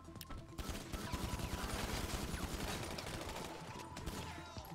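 Dense, sustained gunfire in GTA Online, a rapid fusillade of overlapping shots rattling continuously at close range with no pauses.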